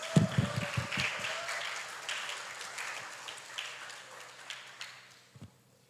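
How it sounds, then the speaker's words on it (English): An audience at a school English speech competition breaks into applause for the contestants, a burst of scattered clapping that is loudest at first and then thins and fades over several seconds, with a few stray claps near the end. "Give applause for all contestants."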